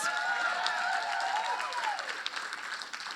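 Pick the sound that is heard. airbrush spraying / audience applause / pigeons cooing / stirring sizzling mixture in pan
audience applause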